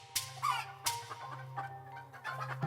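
Chickens cluck loudly at a chicken shop in an animated children's story, with several sharp squawks and clucks in quick succession over a faint steady background hum.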